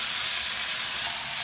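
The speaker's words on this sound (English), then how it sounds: "Add it all in, and we're gonna cook our garlic down" Minced garlic sizzling in a pan while cooking down for a quick pasta e fagioli, a steady soft frying hiss that stays even throughout, heard alone without talk.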